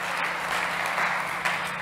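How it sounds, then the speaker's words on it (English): An audience at a startup competition event claps steadily for a presenter, a brief, dense burst of applause that stays even throughout. "Ladies and gents, a big round of applause for Nikita Dedic from Road.travel."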